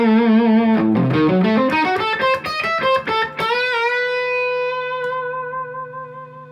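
Electric guitar through an overdrive pedal with the gain raised gives a harder, gritty distorted tone: a quick run of picked notes, then several strummed chords and a final chord left ringing out and fading.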